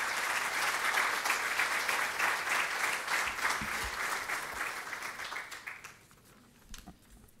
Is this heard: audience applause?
yes